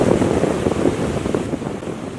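Tidal waves surge and wind blows beside a collapsed bridge under southerly wind weather, a steady loud roar of surf and buffeting wind noise with no voices.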